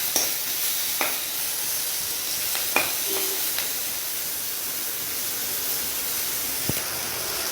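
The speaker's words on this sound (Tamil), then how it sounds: "இப்போ பார்த்தீங்கன்னு சொன்னால் தக்காளி பழமும் வதங்கிடுச்சு" Tomatoes sauté in a pan for a Jaffna-style brinjal and dried-fish curry, making a constant soft hiss of frying with a few scattered light clicks from a utensil.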